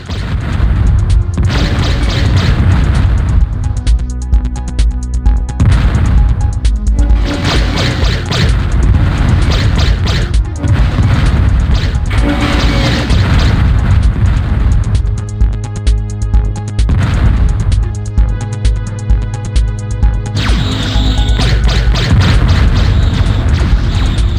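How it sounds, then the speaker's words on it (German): Enemy gunfire and explosions in the 1995 first-person shooter game Descent: dense, loud repeated booms, crashes and blasts layered over a constant low rumbling drone throughout, no voices. "Oh, da schießt was auf mich."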